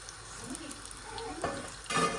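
Steady oil sizzle with soft bubbling and occasional louder crackles as dough balls fry, close up, no talking.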